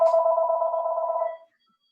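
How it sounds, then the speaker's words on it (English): A mobile phone rings during a meeting, one steady warbling electronic tone that lasts about a second and a half and then cuts off, loud and close, with no talk over it. "that's my phone."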